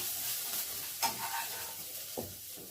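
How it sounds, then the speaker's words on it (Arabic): Garlic and coriander sizzle in hot ghee with a close, steady crackle, with a few spoon taps and stirs on top. "السمنه كده قدحت، ننزل بمعلقه صغيره من الثوم، وبسرعه بسرعه نحط عليه معلقه صغيره من الكزبره"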